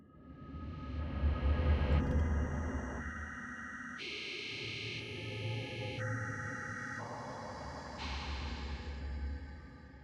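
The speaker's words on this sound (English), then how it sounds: "This has your typical start of a rocks moving, creepy type cave noise" Dark, droning Minecraft cave ambience with low rumbling swells, rock-moving sounds and shifting, echoing tones, steady and eerie throughout with no voices.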